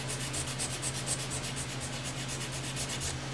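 Fine-grit sandpaper, around 800 to 1,000 grit, rubs over a Fender Stratocaster guitar neck in a close, steady back-and-forth rhythm of soft scratchy strokes, with no talk.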